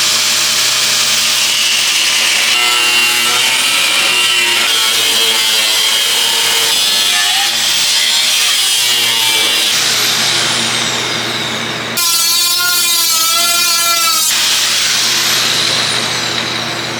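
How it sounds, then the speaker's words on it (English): A big angle grinder grinds rusty metal on a car body, loud and continuous from start to finish, with the pitch wavering as the disc bites and eases off. No one speaks. "I think we're going to get the big grinder."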